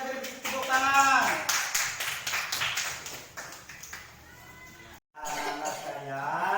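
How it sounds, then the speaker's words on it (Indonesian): Students clap together in a classroom, a burst of rhythmic clapping mixed with children's voices and chatter, fading into a lull before more voices rise. "Kelompok lain saya beri tepuk tangan."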